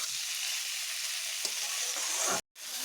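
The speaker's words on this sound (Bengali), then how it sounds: "এইভাবে আমি আরও একটু ভালোভাবে এখন কষিয়ে নিচ্ছি" A vegetarian pumpkin dish sautés in a pan, giving a constant crackling sizzle up close that cuts out briefly near the end before returning.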